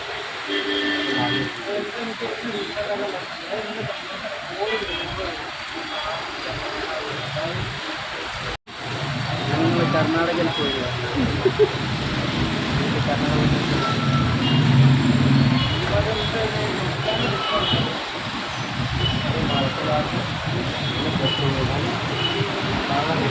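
Heavy evening town traffic crawls in rain, a dense rumbling wash of engines and passing vehicles with beeps here and there, heard from close by and continuous under talking.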